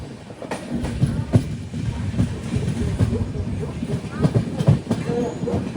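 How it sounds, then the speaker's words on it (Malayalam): A Mumbai CSMT–Mangaluru superfast express pulls into Karwar station in Karnataka, wheels clicking in a steady rhythm with periodic thumps over rail joints, close and moderately loud, with voices talking over it. "ട്രെയിൻ ഇപ്പോൾ കർണാടകയിലെ കാർവാർ റെയിൽവേ സ്റ്റേഷനിലേക്ക് എത്തുകയാണ്"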